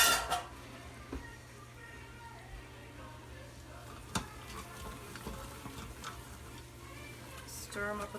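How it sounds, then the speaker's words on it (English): Chopped celery, carrots and onions are stirred in melted butter inside an Instant Pot. The clip carries a quiet, soft sizzle with a few light scrapes and clinks of a utensil against the pot. "Stir them up with that melted butter."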